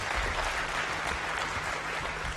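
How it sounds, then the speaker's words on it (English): Audience applause at an annual members' meeting of the NSSF, a dense steady wash of many hands clapping together, loud and continuous throughout without talk. "a bigger hand clap"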